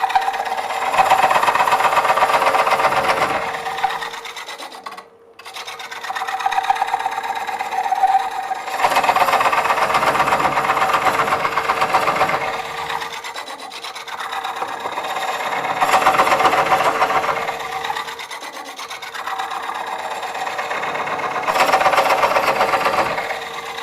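Wood bowl being cored on a lathe with a Woodcut Bowlsaver coring tool, giving a steady mid-pitched whirring cut in long passes, with a brief break near five seconds and lighter gaps where the cutter is eased out.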